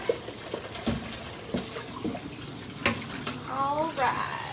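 A bowl is rinsed in a kitchen sink under running water while a person talks. The splashing is fairly quiet, broken by scattered knocks and clinks of the bowl, with a brief squeaky tone near the end.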